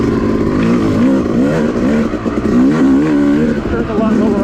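A Yamaha YZ dirt bike engine revs hard at full throttle on a wooded off-road trail, its loud, rising and falling whine close up, with a rider's voice mixed in.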